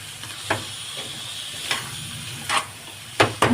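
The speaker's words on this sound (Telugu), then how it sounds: "వేగినప్పుడే చికెన్ కూడా వేసేసుకుందాం." Chicken stirred into browned onions in a pan for a Telugu-style chicken curry, a steady sizzle and hiss with a few sharp scraping stir strokes at irregular moments, close and moderately loud, no talking.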